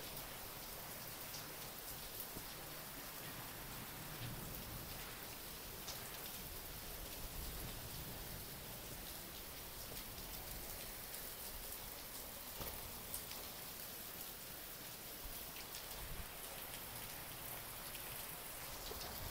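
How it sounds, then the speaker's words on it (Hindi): Heavy, steady monsoon rain pours down in a dense, unbroken hiss, with occasional louder drops pattering on nearby surfaces, in Mirpur. "बारिश भी बहुत हो रही है"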